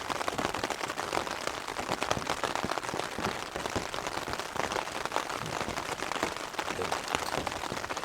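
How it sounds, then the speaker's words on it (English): Steady, heavy rain falls close by at a mountain campsite on England's highest peak, where a Hilleberg Enan tent is pitched; the dense hiss and patter continue without a break and no one speaks. "So it doesn't look like the rain's going to ease up on me."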